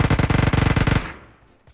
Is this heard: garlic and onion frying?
no